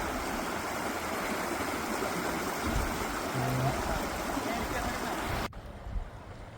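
Cold stream water rushes steadily near Barpe temple, a loud continuous broadband wash that drops abruptly to a quieter background near the end.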